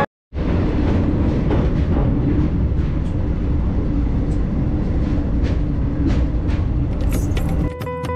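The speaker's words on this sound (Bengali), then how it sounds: "আর এই মুহূর্তে গাড়ি এসে থামলো পণ্ডিত দীনদয়াল উপাধ্যায় বা মুঘলসরাই জংশনে" The Vibhuti Express pulls into Mughalsarai (Pandit Deen Dayal Upadhyaya) Junction with a loud, steady rolling rumble and scattered clanks, ending with a brief high metallic squeal.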